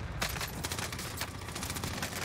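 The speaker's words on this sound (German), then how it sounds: "Oh, ganz schlechter Gunfight." Dense, rapid bursts of automatic gunfire fill a video game gunfight, crackling continuously at close range with no pauses and no talk.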